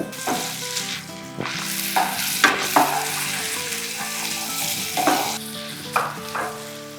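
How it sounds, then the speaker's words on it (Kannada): Chopped tomatoes sizzle and crackle steadily in hot oil in a pan while a spoon stirs and scrapes them, close up, as part of a pudina chicken fry. A tonal hum runs underneath and no one speaks. "ಟೊಮೆಟೊ ಹುಷಾರು ಎಣ್ಣೆ ಕಾಯ್ದಿದೆ."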